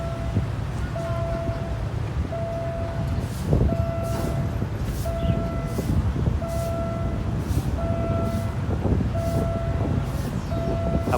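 A Thai ordinary passenger train hauled by GEK locomotive 4016 rolls steadily past a level crossing whose barrier is faulty and will not lower, with rumbling wheels and a repeating bell-like warning tone ringing at regular intervals, loud and near throughout.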